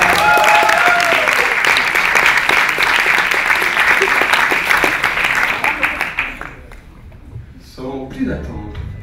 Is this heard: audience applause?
yes